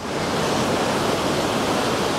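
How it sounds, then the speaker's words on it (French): The Vézère river flows past a golf course as a steady, full rushing wash of water, loud and unbroken from start to finish, with no voices. "Pour aller au golfe, on passe aussi à côté d'une rivière qui s'appelle la Vézière."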